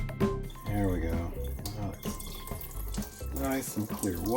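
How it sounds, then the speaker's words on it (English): Tap water runs steadily as freshly hand-dyed yarn is rinsed clear in a sink, a soft continuous wash sitting beneath a person talking close by. "Nice and clear water coming off of it."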